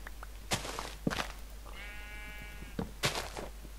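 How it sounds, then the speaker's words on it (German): A sheep in the video game Minecraft lets out a single short, wavering bleat, clear but fairly quiet, between a few sharp clicks and thumps of block placing. "Ah, Schaf, geh weg da."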